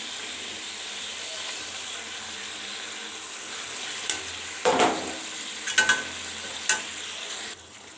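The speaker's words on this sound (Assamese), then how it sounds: "ইয়াত পানী নিদিওঁ আমি এনেকুৱাকৈ ভাজিম" Chicken masala fries without water in a pan, a steady close sizzle broken near the end by a few sharper stirring scrapes and clinks.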